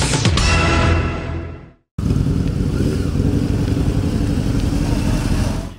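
Motorcycles ridden by Santa-costumed bikers gathering on Deák tér in Hévíz, loud engine rumble and clatter that cuts out sharply, then a steady nearby idling roar, with no talking.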